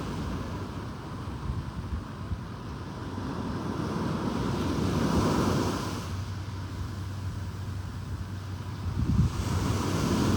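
Ocean waves washing against an island shore, a steady rolling surf with gusts of wind buffeting the microphone and no voices.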